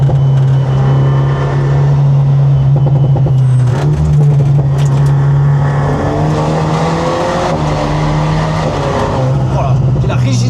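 An Alpine A110 Schirmer GT sports car's engine drones and revs steadily from inside the cabin, with brief tire noise, while occupants talk over it.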